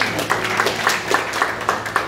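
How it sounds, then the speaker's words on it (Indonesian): A church congregation at an Indonesian worship service claps in a steady, fairly loud rhythm, the individual claps evenly spaced with no voices over them. "Boleh tepuk tangan."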